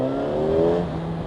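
Yamaha FZ1 motorcycle engine giving a short, loud rev, a steady droning pitch that swells and eases slightly over about a second.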